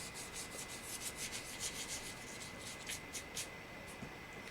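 Paint being rubbed onto a canvas top in blue, a steady soft scratchy brushing with repeated light strokes, close and continuous, no talking.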